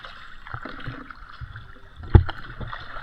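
A kayak paddle dips and pulls through calm sea water off a beach, soft close splashes and gurgles with one brief louder slap midway, no talking.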